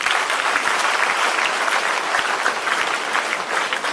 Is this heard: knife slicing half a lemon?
no